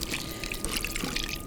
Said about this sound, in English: Now you're looking to cover the potatoes with the broth.